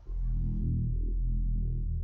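A single sustained Reese bass synth note, thick and heavy with a slowly wobbling low tone, loud and up close; a brighter hiss on top drops away partway through, leaving only the deep drone.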